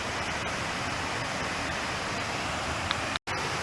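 Steady broadband rush of a waterfall at an abandoned aqueduct reservoir, constant and fairly loud throughout with no talk, broken only by a brief dropout near the end.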